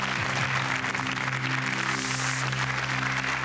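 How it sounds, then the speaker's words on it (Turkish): A studio audience applauds a contestant's score at a Quran recitation competition, steady dense clapping holding at an even level throughout alongside a low hum. "70 alkışlıyoruz."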